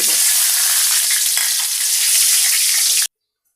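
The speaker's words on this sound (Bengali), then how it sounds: "এলাচ দারচিনি লবঙ্গ লবঙ্গ গোলমরিচ সবগুলো দিয়ে একটু ভেজে" Cardamom, cinnamon, cloves and black peppercorns fry in hot oil and ghee with a loud, steady sizzle that fills the pan close up, then cuts off abruptly.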